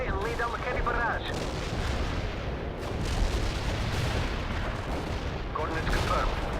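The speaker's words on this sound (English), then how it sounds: "We can deploy and lay down a heavy barrage." Heavy artillery barrage in World in Conflict, a dense continuous rumble of distant booming shell impacts and gunfire, with radio voices speaking over the bombardment.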